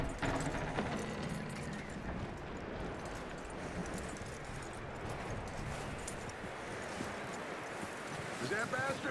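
Horse hooves clip-clop steadily in Red Dead Redemption 2, a continuous gait beneath game ambience and music, with voices talking over the steps.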